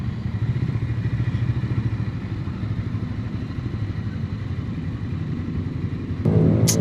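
A Ducati Scrambler Icon 2026 motorcycle with a quick shifter riding steadily, its engine a constant close rumble, then a sudden rise in revs near the end.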